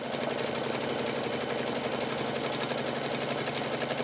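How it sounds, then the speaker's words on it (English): An embroidery machine stitches a square outline around an in-the-hoop pillow design, a fast, even, close mechanical chatter running without pause. "It's going to stitch completely around the design in a square."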